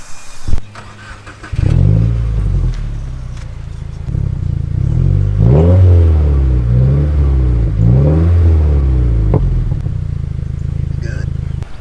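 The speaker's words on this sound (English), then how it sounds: "We'll do a little review to see if the car is running a little better with the new spark plugs" Engine of a 2016 Subaru WRX fitted with new spark plugs: it starts up, then revs several times in rising and falling sweeps over a steady idle, loud and close throughout.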